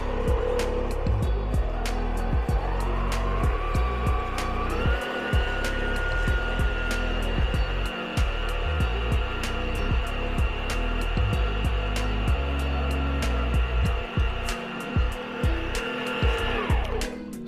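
A stand mixer with a paddle attachment runs on low speed, a steady motor whine that ramps up and settles into a continuous hum, with irregular knocking and clattering from the bowl, close by.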